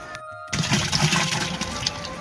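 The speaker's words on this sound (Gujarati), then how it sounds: "ફિલ્ટરમાં પાણી ચાલુ કર્યું છે અને ફિલ્ટરમાં પાણી ભરાય છે." Water runs and splashes into a household water filter, a steady rushing pour that starts abruptly after a brief quiet moment and continues loud and close.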